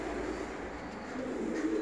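Lionhead (Aslanbaş) pigeons in a loft give low, steady cooing that runs continuously at moderate, fairly close level with a faint hum behind, and no voices are heard.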